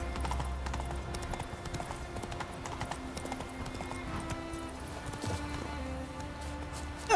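Hooves of Roach, a horse in the Witcher 3 video game, clop steadily across a wooden bridge in a quick repeated rhythm, moderately close, over soft background game ambience.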